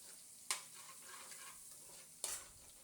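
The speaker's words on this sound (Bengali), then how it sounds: "তেলের মধ্যে রসুন থেতো করে রেখেছি, ওই রসুনটা ফোড়ন দিয়ে দিলাম।" Crushed garlic tempered in hot oil for a spicy fish curry sizzles quietly and close, with two sharp bursts as it is stirred in the pan.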